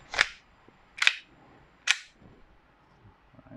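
Three sharp, loud airsoft gun shots fired alone at roughly one-second intervals, each a crisp snap with a short tail, followed by quiet background handling.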